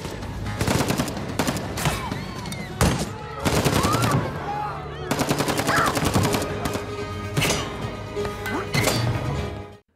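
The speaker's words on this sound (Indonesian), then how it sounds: "Serge gak gentar dan terus menembaki para perampok" Bursts of machine gun fire ring out in an action film shootout with robbers, sharp rapid volleys and single loud shots in repeated clusters with short gaps, plus scattered impact noises.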